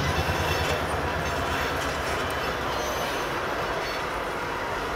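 A throttled-up CN freight train rumbles steadily past nearby in a rail yard, a dense continuous roar of rolling wheels and rattling cars with a faint metallic squeal.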